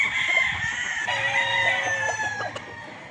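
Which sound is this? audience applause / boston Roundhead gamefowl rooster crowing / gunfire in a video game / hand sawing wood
boston Roundhead gamefowl rooster crowing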